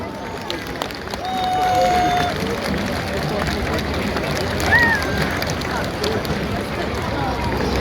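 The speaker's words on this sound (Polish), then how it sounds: "Gorące brawa!" An outdoor audience at the Lajkonik march in Kraków applauds, a steady wash of clapping and crowd noise rising after the first second, with scattered voices mixed in.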